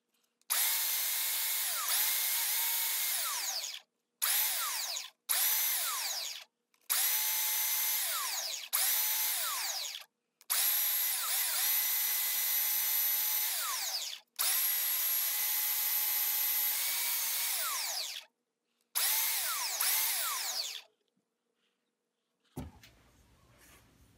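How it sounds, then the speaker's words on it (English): Power sander working a piece of purpleheart wood, a loud steady whine in repeated bursts of several seconds separated by short pauses, with faint handling noise at the end. "notice I am facing the grain of the wood with in line with the sander here"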